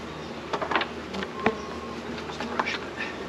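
Bees hum and drone around a hive on a hot day, a steady close buzz with individual insects zipping past the microphone, no talking.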